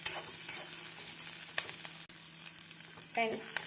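Onions with curry leaves and green chillies sautéing in a pan for a cauliflower dish, a steady close sizzle broken by a few scraping stirs, with no voices.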